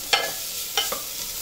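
Chopped carrots and other vegetables frying in a pan, stirred with two or three quick scraping strokes over a low continuous sizzle.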